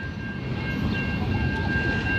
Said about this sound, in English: Train's going backwards.